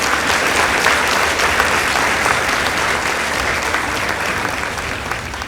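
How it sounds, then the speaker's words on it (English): A large audience applauds the Goshen Girls Sacred High School debate team at an inter-school debate, a loud, dense, steady wash of clapping that holds evenly throughout. "Give them a round of applause."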